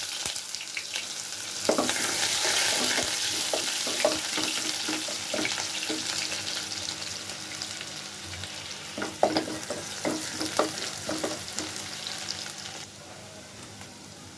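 Onion dropped into hot oil in a pan, a burst of frying sizzle that carries on steadily, with scattered stirring clatter in the middle and the sound thinning out near the end, no talking.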